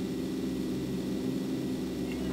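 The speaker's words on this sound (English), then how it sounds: "Is that a plane I hear? That's far away." A distant airplane in a video game gives off a steady, far-off droning rumble with a soft hiss, unchanging throughout and with no voices.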